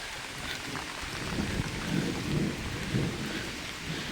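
Steady monsoon rain in rural Konkan, Ratnagiri, pours down with a constant hiss, while low rumbles of distant thunder roll underneath every second or so.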